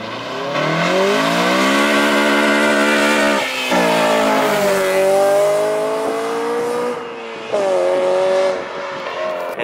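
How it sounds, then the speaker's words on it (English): A front-wheel-drive car does a burnout, its engine revving loud and close in rising, sustained pulls with tire noise, easing off briefly between bursts. "do a little burnout to end this video off"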